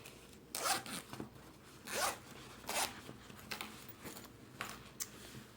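Zipper on a handmade fabric wallet being opened and closed, several short rasping pulls spaced about a second apart, quiet and close, with nothing else heard.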